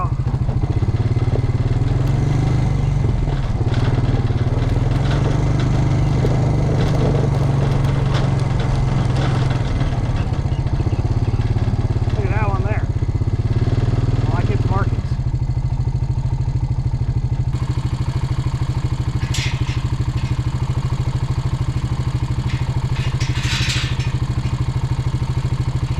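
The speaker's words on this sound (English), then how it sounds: "Got the tractor moved so we can back up here to the pit a little easier." A farm tractor engine idling and being moved in the yard, a loud steady low rumble with some clatter that continues throughout, close by.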